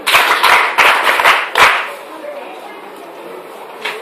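Audience clapping at a school gathering, a quick burst of sharp claps for about a second and a half that dies away into quiet room tone.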